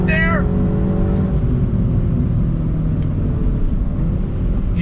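2021 Mini Cooper S convertible with a 6-speed manual, engine blipping in a brief rev rise at the start, then a low steady rumble of the car driving through twisty roads, with loud road and wind noise.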